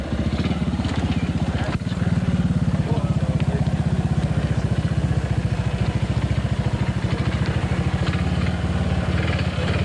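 A trials motorcycle engine at a world championship round in Ioco, British Columbia, running close and loud with a steady rapid firing pulse that holds throughout, a brief dip near two seconds as the rider shifts into second gear.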